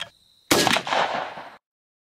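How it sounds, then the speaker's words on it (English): A single loud shotgun blast from a Beretta A400 Xplor 28 gauge fitted with a Jebs extra full choke, fired outdoors at a patterning target, sharp onset followed by a decaying echo, with no talk. "We'll shoot the left target with the Jebs extra full out of the Beretta A400 28 gauge xplor Action."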